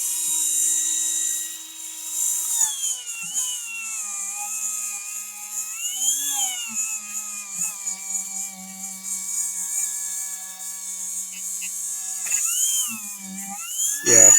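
A power tool spins steadily at just under 2,000 RPM while working on an old gun, a whining tone that rises and falls in pitch with small speed changes, close and continuous.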